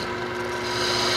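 A Hunter tool slices into the end grain of a tulip-shaped wood vessel spinning on a lathe, giving a steady, close, continuous rasping hiss with a constant hum underneath that swells slightly toward the end.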